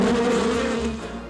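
Swarm of cartoon bees buzzing at a county fair, a loud dense droning hum that holds steady and slowly fades, with no speech.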